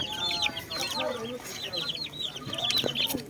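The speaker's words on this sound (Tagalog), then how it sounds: "yung 15 piraso natin alagang sisiw" Backyard chicks peep and cluck close by, with overlapping high chirps and short cheeping calls continuing throughout, alongside faint background noise.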